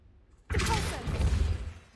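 A Depulso force spell fires in a video game with a sudden broadband whoosh that bursts in after a brief quiet, then holds as a rushing, rumbling surge before tapering.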